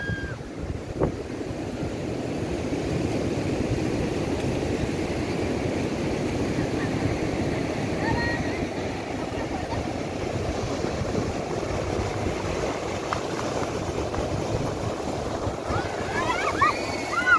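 Ocean surf rolls and crashes continuously nearby, mixed with gusty wind buffeting the microphone.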